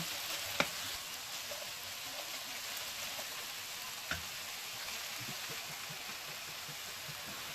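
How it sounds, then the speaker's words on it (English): Carrots fry in a pan for chicken pie with a steady, quiet sizzle that goes on throughout, marked by two faint clicks of stirring. "I'll go ahead and put the carrots and I'll stir it."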